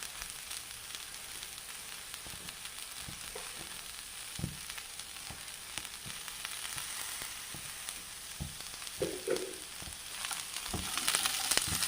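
Thoran of green beans with salt is stir-fried in a pan, giving a soft continuous sizzle broken by scattered scraping and tapping strokes as the vegetables are mixed.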